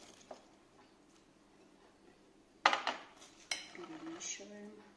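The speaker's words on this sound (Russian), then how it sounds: "Перемешиваем." A spoon stirs cut cucumbers and tomatoes in a dish, giving a few sharp clinks and scrapes against the dish amid quiet background music.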